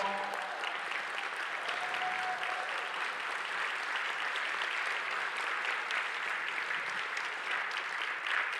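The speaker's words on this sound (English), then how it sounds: "let's stand to our feet and give them a round of applause" Sustained standing applause from a large crowd at a Martin Luther King Jr. Day ceremony, steady and loud clapping filling the room without a break.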